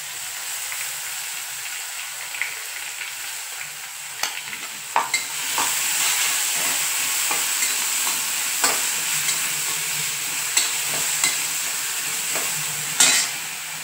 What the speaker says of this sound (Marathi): व्यवस्थित असं मिरची छान आपल्याला परतून द्यायची व्यवस्थित।